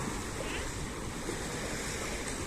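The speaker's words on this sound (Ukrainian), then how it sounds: "Ось зараз знову формується велика хвиля. Зараз буде великий такий кидок." Large sea waves roll in and break on a resort coast in November, a steady, loud, full roar of surf with wind noise throughout and no distinct single crash.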